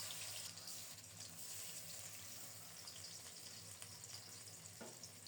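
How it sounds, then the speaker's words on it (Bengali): Small topse fish marinated with turmeric, salt and rice flour frying in hot oil, giving a steady, fairly soft hiss and crackle that runs throughout without any talking. "এখন মাখানো মাছগুলো দিয়ে দেব। তেল যথেষ্ট গরম হয়ে গেছে।"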